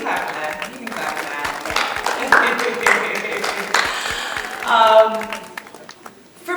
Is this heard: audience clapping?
yes